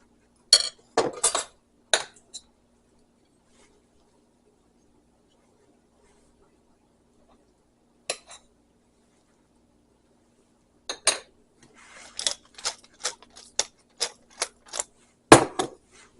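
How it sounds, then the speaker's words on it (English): Potatoes with butter are smashed in a dish, heard as sharp clinking taps of utensil against dishware in short bursts, with a long quiet gap before a faster run of repeated knocks. "I like to smash my potatoes and put a little bit of butter on them"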